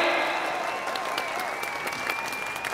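An audience claps at a small circus after a magic act in which a cloth is draped over a woman to make her vanish. The applause is a steady, dense patter that lasts throughout without any voices.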